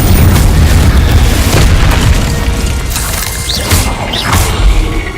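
A Confringo explosion spell in the Hogwarts Legacy video game lands as a loud, deep boom with a rolling rumble and crackling debris that lingers for several seconds.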